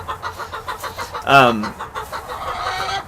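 Backyard coop chickens clucking in a steady, rhythmic series, with one louder, drawn-out call partway through. A person talks nearby over the flock.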